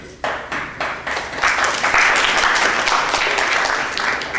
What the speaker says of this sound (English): Everybody has cookies in their hands, they can't clap quick enough.